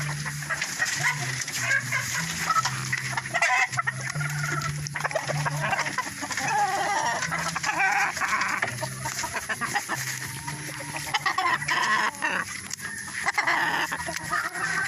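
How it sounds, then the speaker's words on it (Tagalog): Chickens and a rooster on a muddy rural farm after heavy rain cluck repeatedly in short bursts, fairly close, with other farm animals and occasional talk in the background. "Ito po yung manok na naiwan ng tatay ko."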